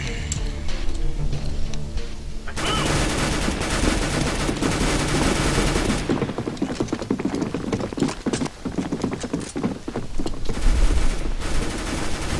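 Gunfire in Counter-Strike: Global Offensive, dense runs of loud, close rapid shots and clattering impacts that keep going almost without pause, with occasional short lulls.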